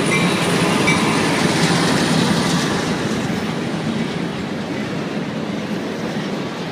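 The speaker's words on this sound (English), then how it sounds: "here's a train coming out the middle." A train rumbles loudly and steadily across a bridge at Harpers Ferry, West Virginia, wheels clattering with a faint metallic squeal riding over the continuous roar.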